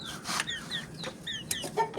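Chickens cluck nearby in a rapid series of short, rising calls, with scratchy bursts in between, among a hen, a new rooster and chicks.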